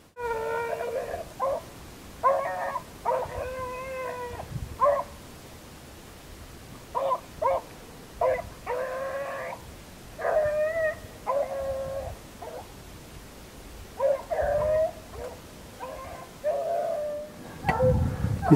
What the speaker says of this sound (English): Awesome dogs.